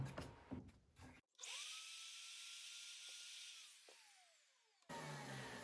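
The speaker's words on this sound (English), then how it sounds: "move the turret, and now we'll route the deeper portion" A power router cuts the deeper part of a hinge mortise in wood, starting up and holding a steady high whine for about three and a half seconds before spinning down, with brief noise before and after.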